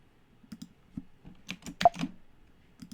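Mac keyboard keys pressed for the Option Shift K shortcut, a few soft close clicks followed by a tight cluster of sharper taps, then a couple of quiet presses, with no talking.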